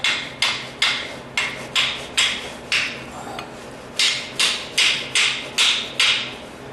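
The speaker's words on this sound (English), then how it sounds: "All I'm going to be doing here is taking a hammer and tapping these out." Hammer tapping out pressure-fit rear brake parts from the caliper bracket of a 2015 Jeep Wrangler: about fourteen sharp metallic strikes at a steady rhythm, close and loud, with a brief pause midway.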